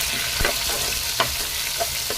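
Garlic cloves sautéing in oil in a pan, a steady broadband sizzle with a few sharp spatula clicks and scrapes, close and moderately loud with no voices.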